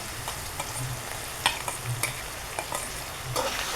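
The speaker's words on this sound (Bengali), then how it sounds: "হালকা একটু ভেজে নেব।" Greens being stirred and fried in a pan with dried fish, a steady soft sizzle broken by scraping clicks of a utensil against the pan.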